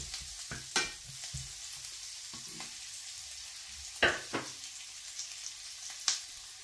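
Garlic and onion sautéing in a pan for adobong kangkong, a quiet steady sizzle broken by a few sharp clanks and scrapes of a utensil against the pan, close and without talk.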